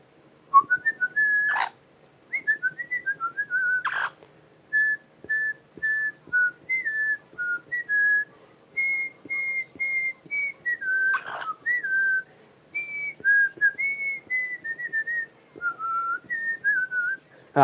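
A parrot whistles a melody from Star Wars, slow and clear with steady held notes, with a few sharp squawks between phrases.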